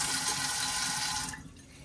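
Water pours from a tap over ice, a steady close splashing rush that cuts off abruptly near the end, with no voices.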